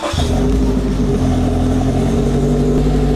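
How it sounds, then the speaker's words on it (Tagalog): A Toyota 86 on a cold start, fitted with Rota Titan wheels and Achilles 123S tyres, runs at a loud, steady, rough idle with a continuous low rumble throughout. "Maririnig nyo guys, medyo maingay siya, cold start pa lang."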